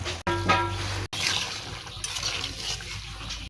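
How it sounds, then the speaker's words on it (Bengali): Potato and chhana curry bubbling as it boils in a pot, a close, steady wet simmer with soft bursts, briefly cut by two short gaps. "কেমন ডেব ডেব করে ফুটতেছে।"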